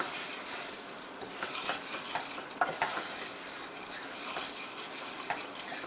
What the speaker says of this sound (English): Stir it around, make sure that it doesn't get any color.